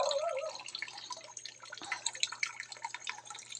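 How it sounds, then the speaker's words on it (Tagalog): Water drips from a household tap late at night as it is collected, a scattering of soft, irregular drops landing over a faint low hum. "maraming marami guys na naghihintay ng pagpatak ng gripo"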